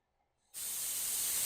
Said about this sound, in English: Bubbles appeared and I heard a fizzing sound.